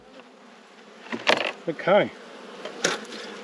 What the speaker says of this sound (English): We've got bees on the top of there.